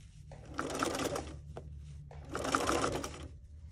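A sewing machine stitches binding around a curve in two steady, fairly quiet runs separated by a short pause, with a faint click between them.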